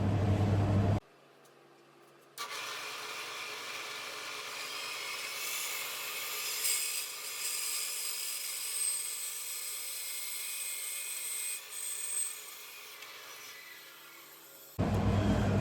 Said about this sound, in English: Okay, so now we'll just cut this off on the bandsaw.